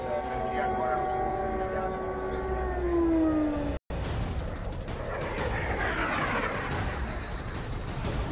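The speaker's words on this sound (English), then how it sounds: "Sirens started screeching." Wailing air raid sirens in Ukraine rise and fall over a dense rumble of distant missile and bomb blasts, with a brief cut midway before the droning continues.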